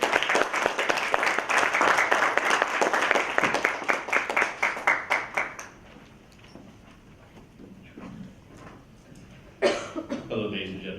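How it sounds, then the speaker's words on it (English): Audience claps loudly for a speaker named Manish at a Toastmasters-style club meeting, a dense steady burst that fades into scattered claps and coughs, then a voice begins talking near the end. "Could we have a huge round of applause for Manish"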